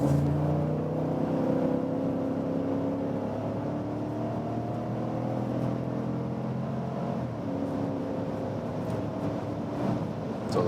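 Cadillac Escalade with a V8 engine accelerating hard on a German Autobahn from about 90 km/h, heard from inside the cabin as a steady, rising engine drone blended with road and wind noise.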